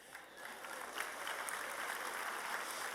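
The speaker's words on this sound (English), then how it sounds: "give yourselves a round of applause for getting here" Conference audience applauding at a welcome session, a steady dense patter of many hands clapping at a distance, fairly faint.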